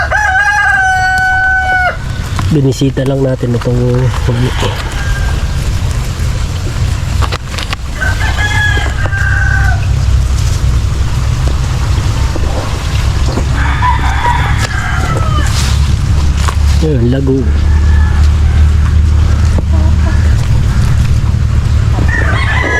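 Backyard chickens crowing repeatedly and clucking beside a coop under construction in a countryside yard, loud and close, with a person speaking briefly among the calls.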